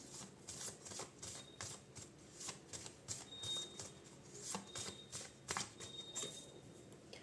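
Tarot-style cards being shuffled and drawn from a deck during a reading, a close run of quick papery flicks and snaps in irregular bursts, with no talking.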